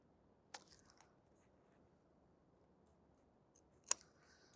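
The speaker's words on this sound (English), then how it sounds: "I'm going to cut off this long tail here." Scissors snipping off a long thread tail after a double knot while stuffing a craft pumpkin, two faint, quick, close snips more than three seconds apart in a quiet room.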